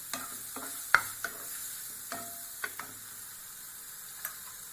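Onion and green chili frying in a pan for oats upma, a soft steady sizzle broken by several sharp spoon taps and scrapes as the pieces are stirred.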